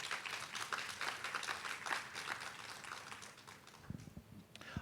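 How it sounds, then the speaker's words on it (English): An audience at a school district address gives a round of applause that swells and then thins out, ending with a few scattered claps. "I think that deserves a round of applause."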